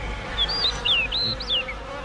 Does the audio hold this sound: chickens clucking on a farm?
no